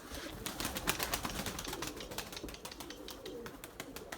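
Erzurum white breeding pigeons flap and land at a loft, with rapid bursts of wingbeats and fluttering up close, irregular and loud, scattered through soft background coos.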